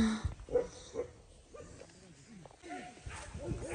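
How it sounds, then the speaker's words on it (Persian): Dogs in a countryside garden scuffle and bark at each other, a run of overlapping growls, yips and barks at moderate distance with a person talking over them. "سگا با هم در افتاده."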